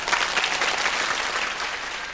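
Sustained applause from a studio audience at a televised Vietnamese singing competition, steady dense clapping throughout at fairly even loudness, easing slightly toward the end.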